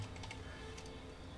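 Keyboard shortcut keys on a computer tap a few times in quick light clicks while drawing in GIMP, faint under a steady background hum.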